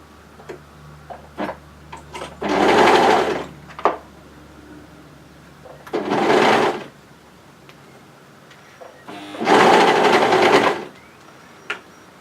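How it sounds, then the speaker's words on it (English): Overlocker sewing around a gathered dress garment, running in three loud, close bursts of rapid whirring separated by quieter pauses with small clicks and handling sounds. "just continue overlocking around your garment"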